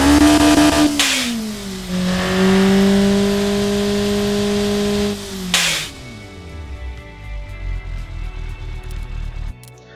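Turbocharged Toyota 7A-GE engine revving hard and holding high rpm, then dropping back to a rough, pulsing idle, loud and close.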